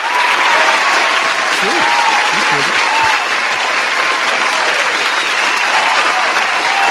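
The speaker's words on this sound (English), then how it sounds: "can we give him a round of applause for all the stuff that he does?" A long, loud round of applause from a crowd at an after party, dense and sustained for the whole stretch, with a few voices and cheers rising briefly through it.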